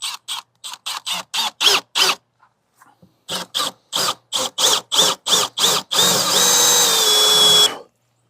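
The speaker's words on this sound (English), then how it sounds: "I've marked the hole for the actuator wire. Use a 3/8 inch hole for this one." Power drill boring a 3/8 inch hole for a trim tab actuator wire on a boat: a run of short, evenly spaced whirring bursts, then a longer continuous whine with a squeal near the end, loud and close.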